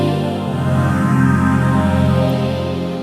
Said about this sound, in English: there's a phase string thing